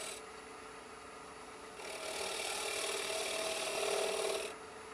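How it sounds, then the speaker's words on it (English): A very sharp scraper shaves across a turned wooden hollow sphere, giving a steady close rasping scrape that swells louder in the middle stretch before stopping, with no talking. "It's amazing what you can get done with a scraper if it's really sharp."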